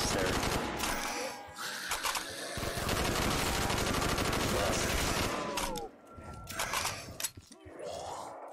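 Rapid automatic fire from a Commando rifle in Black Ops III custom zombies, long sustained bursts up close with short pauses, and players talking over it.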